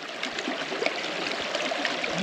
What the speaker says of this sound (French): on passe à côté d'une petite rivière, on va la compléter